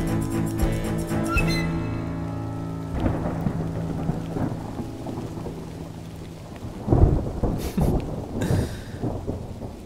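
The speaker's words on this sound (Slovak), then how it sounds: "Ty sa vôbec nečuduješ, že prší?" Steady rain falls on surfaces while thunder rolls and cracks loudly in the latter half. Music is heard fading out at the start of this fairy-tale audio story.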